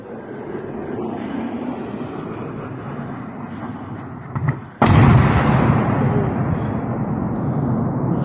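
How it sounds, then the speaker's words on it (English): Huge explosions at a military base: a constant low rumble, then a sudden heavy blast that jumps in loudness and keeps roaring on afterward, broad and booming. "Huge explosions"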